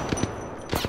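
Rapid gunfire in Apex Legends, two quick pairs of sharp shots close by with a brief pause between them over steady background game noise.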